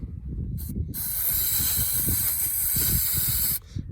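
Brake cleaner aerosol hisses steadily and loudly for about two and a half seconds, cutting off abruptly, with the low rumble of a Holden FC Grey Motor engine running underneath.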